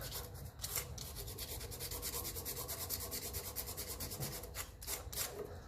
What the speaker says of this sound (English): I'm going to get a bit of sandpaper for the rest of that